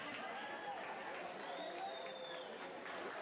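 A crowd at a girls' swim and dive meet gives a round of applause for diving results, with steady, fairly faint clapping spread through a reverberant pool hall, a voice calling out over it.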